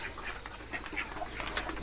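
Ducks quacking on a farm in rural Laos or northeast Thailand, soft scattered calls over low background noise, with one brief sharper note near the end.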